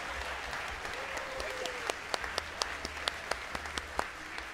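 Applause for a game show contestant at a church event, a soft, diffuse patter from a modest crowd with a few louder, sharper individual claps standing out near the middle.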